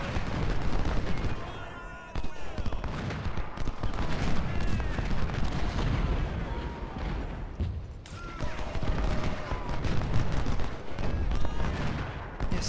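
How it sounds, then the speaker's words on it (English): Artillery guns in Ultimate General: Civil War fire in a dense, continuous barrage, with overlapping booms and crackling musketry rolling on loudly for the whole stretch, plus a brief dip near the start. "right now I have my guns shooting their guns."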